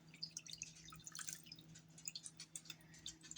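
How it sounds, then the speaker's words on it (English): Lemon juice drips through a sieve in quick, irregular close drops and trickles over a low hum, with no talking. "I'm gonna pour it right through the sieve."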